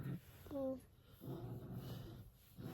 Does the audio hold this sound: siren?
no